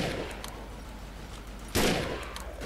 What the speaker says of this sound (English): Who's shooting everything?